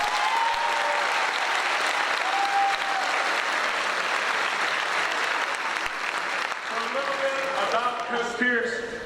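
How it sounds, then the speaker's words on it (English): Sustained applause from an audience at a school awards ceremony honoring a retired coach, steady clapping filling the room for several seconds with a few cheers near the end. "Everybody, round of applause for Coach Pierce."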